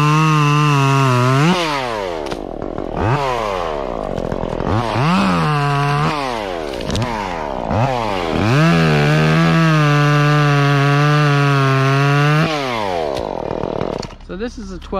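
A chainsaw with a 12 inch bar cuts tree branches, loud and close, its engine revving up and dropping back repeatedly as it bites into the wood, with short idle dips between cuts.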